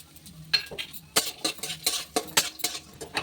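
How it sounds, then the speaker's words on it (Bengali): Chopped coconut frying in mustard oil in a wok, heard mostly as repeated close metallic scrapes and clinks of a spatula stirring in an uneven rhythm, with only a faint sizzle beneath. "এবার এর মধ্যে ভেজে নেবো ছোটো করে কুচিয়ে নেওয়া নারকেল"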